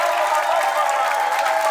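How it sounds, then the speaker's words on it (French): Crowd applause at a health-centre handover ceremony in Sud-Ubangi, a dense steady wash of clapping that holds loud and even for under two seconds, with no voices standing out. "Applaudissez pour le PDCS."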